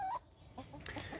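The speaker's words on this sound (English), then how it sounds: "Now, those are regular chickens." Chickens cluck softly and a little way off in a backyard flock, a few short clucks and calls over quiet outdoor background.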